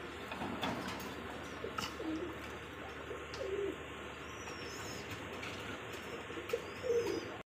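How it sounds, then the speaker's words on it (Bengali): Large Rajgolla-breed pigeons coo softly and repeatedly in a low, steady murmur, with a few faint chirps over continuous background noise. "দেখেন বিশাল সাইজের রাজগোল্লা কবুতর"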